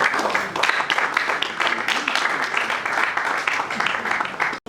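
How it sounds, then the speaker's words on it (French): A French conference audience applauds a woman's arrival at a catering company's debate event, a lively, dense burst of clapping from many hands that holds steady for several seconds before cutting off abruptly. "S'il vous plaît, applaudissez pour son arrivée."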